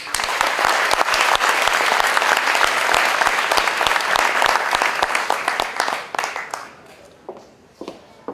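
An audience at a youth committee opening ceremony in Villejuif applauds loudly and densely for several seconds, then the clapping thins out into scattered claps and fades.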